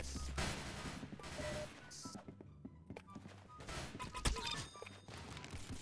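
Gunfire from a Roblox Arsenal shooting match: scattered shots and thuds over a busy game mix, with one sharp loud bang near the end and talk running underneath.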